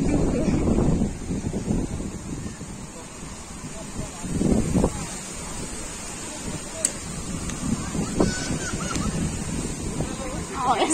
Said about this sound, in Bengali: দেখছো তো কেমন জোরে হাওয়া হচ্ছে